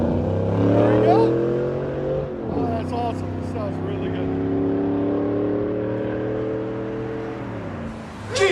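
A GMC Yukon Denali with a 6.2L V8 and aftermarket exhaust revs loudly up and then settles into a deep, steady rumble, with a sharp blip of throttle at the very end.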